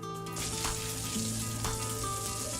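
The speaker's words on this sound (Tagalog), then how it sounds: "iprinito niya ito sa kumukulong mantika" Banana dinuldol frying in boiling oil, a steady dense sizzle and crackle running throughout with a few brief louder spatters, close and alone with no voices.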